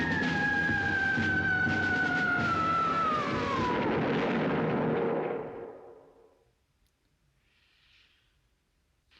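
A film explosion: a long roaring blast with a descending whine that rumbles loudly for several seconds, then fades into near silence with a faint distant hiss afterward.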